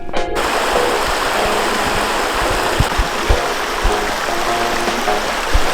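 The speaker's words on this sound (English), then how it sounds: "Made it down to the river." Buffalo River flowing at a low level in the Ozarks, a steady broadband rush of moving water that runs throughout, with a few low thumps and knocks over it and no talking.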